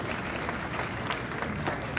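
A large university audience at Arizona State applauds during a talk, a dense, steady wash of many hands clapping at a moderate distance, continuous throughout with no speech over it.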